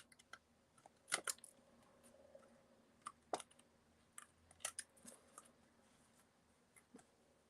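Scissors trim the ends of a handmade Bethlehem night Christmas card in a few sharp, separate snips spread out over a quiet background, close and crisp.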